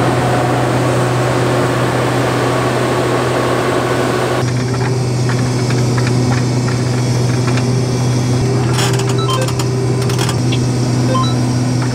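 A combine harvester runs steadily in a bean field, its deep engine drone and mechanical whir constant and close, with a brighter rattle of machinery joining partway through and no voices.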